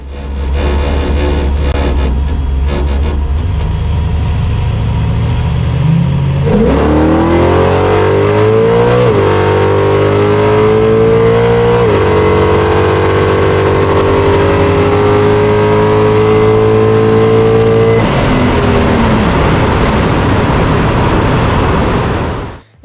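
Chevrolet LT1 350 naturally aspirated drag car launching down a quarter-mile strip, engine roaring loud and close, revving hard through rising gear pulls with a shift break, then fading as it pulls away.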